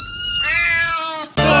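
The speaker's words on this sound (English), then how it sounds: "What the fuck is wrong with the cats?" Cats fight inside a home, letting out loud, drawn-out yowling meows that rise and bend in pitch, ending in a sudden harsh screech.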